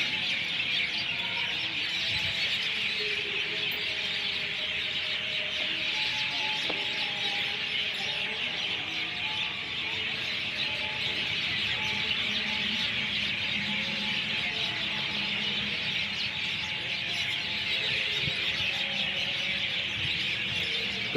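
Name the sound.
birds chirping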